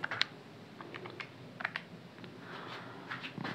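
Quiet, sparse clicks of calculator keys being pressed one at a time, a few spaced taps close by with soft room noise between them.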